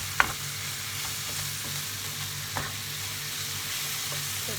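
Onions caramelising with vinegar and sugar sizzle steadily in a pan, a constant close frying hiss with a few soft scrapes and knocks as the mixture is stirred.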